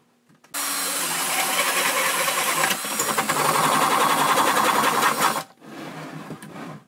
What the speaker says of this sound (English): I'm going to drill at an angle because that hole has to be a little